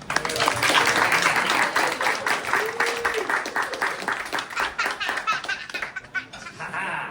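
Enthusiastic audience applause and scattered laughter welcoming Lex the Illusionist onstage at a close-up magic show, a dense steady clapping that gradually thins toward the end.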